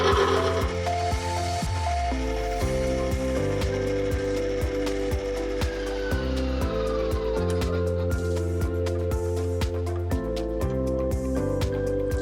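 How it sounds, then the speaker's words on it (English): An electric mixer runs at low speed, beating sponge cake batter in a bowl, with a steady mechanical whir and faint rhythmic ticking that carry on evenly throughout. "So just to create uniform air cells, we mix it at a lower speed for a couple of minutes before adding the oil."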